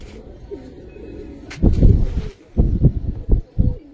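Giribaz pigeons cooing up close in a loft, several soft rhythmic low-pitched coos in short bursts after a quiet start, with faint background noise.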